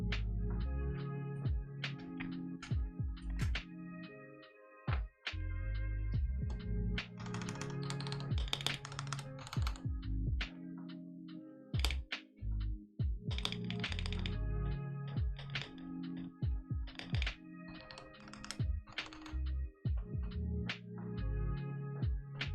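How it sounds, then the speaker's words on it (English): Plastic keycaps being pried off a KBD8X MkII mechanical keyboard fitted with Holy Panda switches using a keycap puller, giving a steady run of close, sharp clicks and clacks with repeated taps and small rattles. "Come here, keycap puller. I need you."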